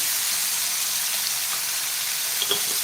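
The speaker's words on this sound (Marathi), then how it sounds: "आता मिडियम फ्लेमवरती आपल्याला एक पाच मिनटं बोंबील फ्राय करून घ्यायचे" Bombay duck (bombil) fish frying in a pan over a medium gas flame, a steady soft sizzle with faint crackles and one or two brief pops near the end, close and alone with no voices.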